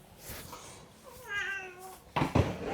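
A cat gives one clear, drawn-out meow up close, followed by a couple of sharp louder bumps or noises nearby.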